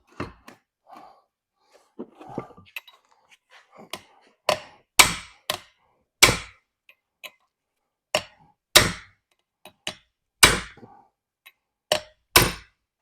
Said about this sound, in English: Oh, I gotta beat it some more.